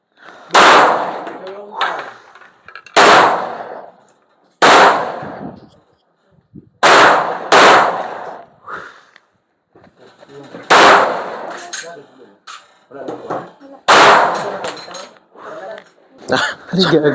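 Sharp, loud gunshots crack out one at a time at irregular intervals during target shooting practice, about a dozen in all, with voices talking between some of them.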